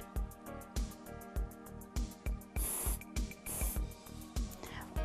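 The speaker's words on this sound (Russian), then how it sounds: "Теперь мы берем баллончик" A spray paint can coats a handmade photo frame in two short, quiet hissing bursts, heard over a steady rhythmic music beat.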